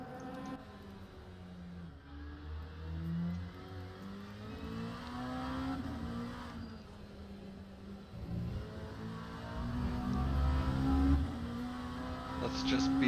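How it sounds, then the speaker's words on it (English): An LMP2 prototype race car lapping Spa-Francorchamps, heard onboard as a droning engine whose pitch climbs and falls through gear changes, growing louder toward the end, with voices talking faintly over it. "listen to the sound of this LMP2 car navigating around Spa Francorchamps"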